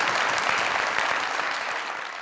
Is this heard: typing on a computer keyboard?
no